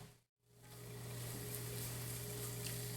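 Butter sizzles loudly and steadily with vegetables in a pan while making cream of mushroom soup, a dense continuous hiss that swells in after a brief silent gap.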